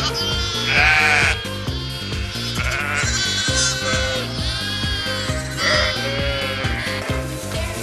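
Sheep and lambs bleating, with ewes and their young, in several clear calls that rise over steady rhythmic background music; no talking.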